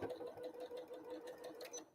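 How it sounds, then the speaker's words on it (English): A sewing machine runs a fast, even stitch with thin Deco Bob thread while piecing a quilt block, a close rhythmic clatter that stops near the end. "Because I'm sewing with Deco Bob and I just switched the stitch, I'm just reducing my tension a little bit"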